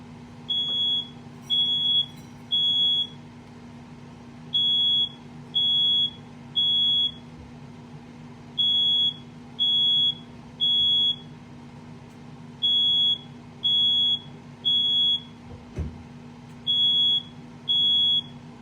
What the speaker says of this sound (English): Our smoke alarm just went unannounced.